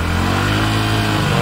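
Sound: Hero Splendor Plus Xtec motorcycle revving at full throttle

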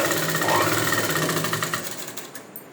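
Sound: sewing machine stitching boutique-style piping

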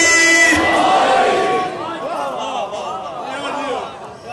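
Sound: audience chanting slogans together

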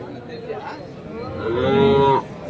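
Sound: cattle mooing

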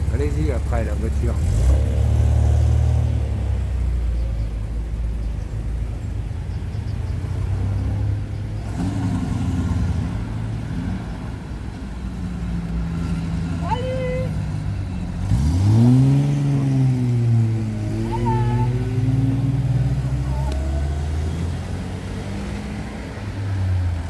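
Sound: vintage Peugeot 403 car driving past

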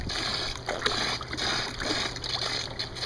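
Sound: plastic stool splashing into swimming pool

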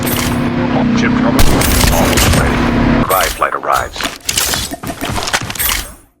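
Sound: gunfire in the video game Call of Duty

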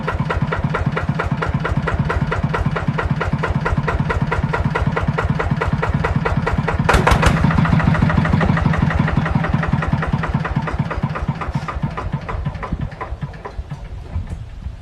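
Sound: engine idling

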